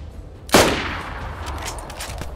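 A single loud gunshot rings out close by in the video game DayZ, with a sharp crack that fades into a lingering echoing tail.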